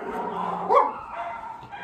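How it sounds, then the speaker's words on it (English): Dogs bark at someone at the front door, one sharp close yip rising over a steady murmur of whimpering and muffled barking. "Try to ignore the dogs barking, please."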